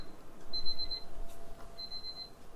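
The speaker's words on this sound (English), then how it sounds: "what I was saying when my alarm went off" An alarm beeps in two short, thin high-pitched bursts over a quiet room background, faint and intermittent.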